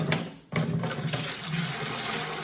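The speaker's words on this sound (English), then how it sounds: "So if I add in the water into the 7-gallon bucket" Water gushes and pours into a 7-gallon bucket for concrete mixing, a loud continuous splashing rush that starts sharply after a brief dip and keeps going steadily.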